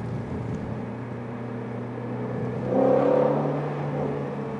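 Steady road and tire roar inside a Shelby GT350 on Michelin Pilot Sport 4S tires and heavier OEM wheels, driving in below-freezing winter conditions, a low constant hum that swells slightly midway with a faint engine tone.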